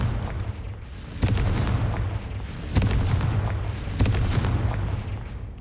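Confringo blasting-spell explosions in Hogwarts Legacy go off as three heavy booms about a second and a half apart, each with a sharp crack and a rumbling tail over a low continuous game drone.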